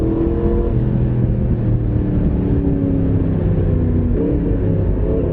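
A Yamaha MT-10SP motorcycle engine hums loud and steady while riding, with the pitch dipping and rising as gears change.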